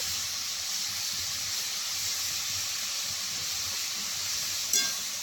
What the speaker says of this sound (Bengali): এবার আমি এইভাবে যতক্ষণ না শসার জলটা মরবে ততক্ষণ ভাজতে থাকবো।